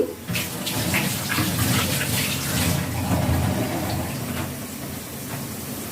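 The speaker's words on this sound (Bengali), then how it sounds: "আমি এখন হাতটা খুব ভালোভাবে ধুয়ে নিচ্ছি" Hands are washed under a steadily running tap in a small home kitchen, a loud continuous rush and splash of water that eases slightly toward the end.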